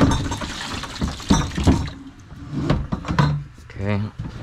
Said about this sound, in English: And we're gonna dump the remaining water.